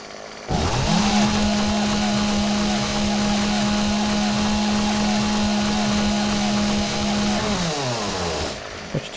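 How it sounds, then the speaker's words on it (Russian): A chainsaw in the video game 7 Days to Die starts up and runs at a steady, loud buzzing pitch for several seconds before cutting off, close and alone. "Почти сломалась у меня бензопила"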